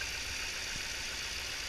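A used Porsche Cayenne engine idles after a cold start, giving a steady, even hum with a faint rattle and no other sounds.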